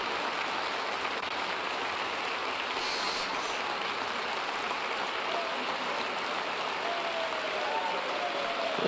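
Steady, dense clapping from a large crowd, sustained and even throughout, with a faint murmur of voices beneath it.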